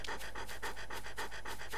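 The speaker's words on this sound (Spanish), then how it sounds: "Ahí vemos al perro." A dog in the Ju-on video game pants rapidly and evenly, with about a dozen quick breaths in under two seconds, close and alone.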